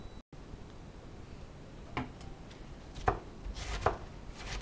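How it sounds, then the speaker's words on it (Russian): A knife shreds cabbage by hand on a cutting board, with several sharp, distinct chopping strokes that grow more frequent toward the end over a quiet background. "Сейчас нужно будет нашинковать капусту, как обычно, как мы шинкуем на борщ."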